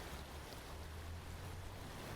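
Soft, steady wash of river water flowing beside a busy road, a continuous broadband rush with a low rumble underneath, faint and unbroken.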